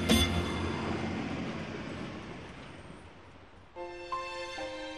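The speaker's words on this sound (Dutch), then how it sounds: "de trein rijdt op het eerste spoorwegviaduct in Europa dat gebouwd is van gewapend beton" A train runs across a reinforced concrete railway viaduct with a sustained rolling rumble that fades somewhat, then sharp tonal squeals or whistle-like notes ring out near the end.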